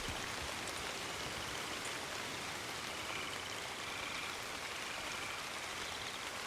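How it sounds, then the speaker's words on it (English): Steady rain in the video game Red Dead Redemption 2, a dense even hiss of falling drops that stays constant and fairly loud throughout with no talking. "Look at that rain."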